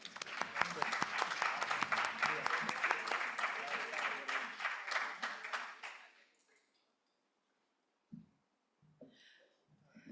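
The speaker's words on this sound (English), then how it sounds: "Please give both presenters a round of applause." Audience applause for two presenters at a medical conference, a dense sustained clapping that fills the hall for about six seconds and then stops abruptly, followed by near silence with a few faint rustles.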